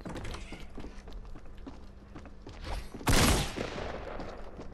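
Gunfire in the Tomatohead multiplayer shooter game: scattered soft shots and clatter, then a sudden loud blast near the end before quieter game noise resumes.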